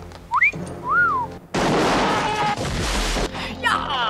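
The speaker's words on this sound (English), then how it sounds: "And all he had to do was whistle." In the James Bond film The Living Daylights, two quick rising-and-falling whistle notes sound, followed by a sudden loud crashing blast and rough noise that carries on to the end.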